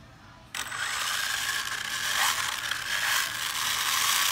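An HPI RS4 RC car with a 911 body and 3S LiPo battery spun up on a drivetrain test, a sudden whirring, ratcheting mechanical whine that holds steady and loud to the end.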